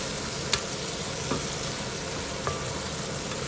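Fried potatoes are tipped into a pan of spices for a rohu fish curry, giving a steady close sizzle with a few sharp clinks of a spoon against the pan.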